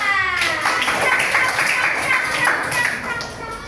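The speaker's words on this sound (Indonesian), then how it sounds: "Beri tepuk tangan." A primary school class claps for a group's work in the classroom, a burst of many small hands slapping together, fairly loud and close, with a few voices mixed in.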